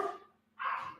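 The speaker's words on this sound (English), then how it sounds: "Lord, these dogs." Pet dogs barking at home, two close, sharp barks separated by a short pause.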